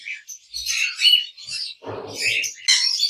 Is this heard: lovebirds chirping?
yes